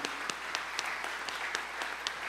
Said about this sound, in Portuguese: eu peço uma salva de palmas à nossa irmã indígena